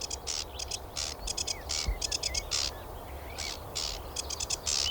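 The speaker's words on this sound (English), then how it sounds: "And a sedge warbler." A male sedge warbler sings in its territory: quick bursts of high chattering, scratchy notes repeat in short phrases over a steady outdoor background hiss.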